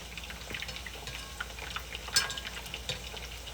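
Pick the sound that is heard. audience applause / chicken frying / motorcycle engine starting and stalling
chicken frying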